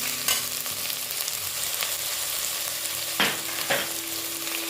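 Ginger paste and mint fry in hot oil with a steady, soft sizzle, broken by a few clinks and scrapes of stirring, with no talking.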